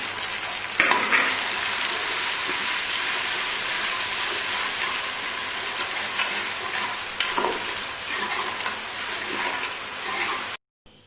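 Tomatoes fry with golden garlic and onion in a hot pan with occasional stirring clatter, a steady loud crackle throughout before cutting out at the end.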